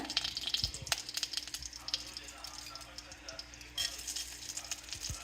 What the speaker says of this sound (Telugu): రెండు స్పూన్లు ఆయిల్ తీసుకొని దాంట్లో కావాలి కొంచెం జీలకర్ర కొంచెము ఉద్దిపప్పు వేసి చిట్పట్లాడినాక